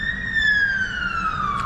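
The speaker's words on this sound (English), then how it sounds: "wait for the ambulance to go past." An ambulance siren passes along a city street in Kuala Terengganu, Malaysia, a steady wailing tone that slides gradually lower in pitch as it goes by, fairly close and loud with no talk.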